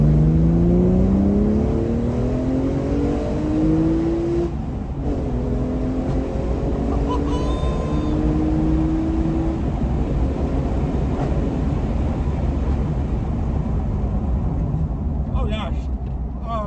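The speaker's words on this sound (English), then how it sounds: "glory of the exhaust comes alive towards the top, let's say, of the rev range" Porsche GT3 exhaust revving high in the rev range, heard from inside the cabin with windows open: a loud, sustained engine roar rising and falling in pitch through repeated climbs, with some wind and road noise.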